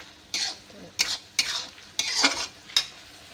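Chili powder, turmeric and ground coriander fry in a pan for an eggplant curry. A utensil stirs them in about five sharp, rhythmic scraping strokes over a faint sizzle.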